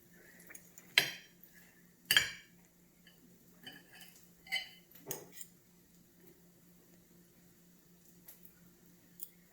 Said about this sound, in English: You eat it with a fork and a knife.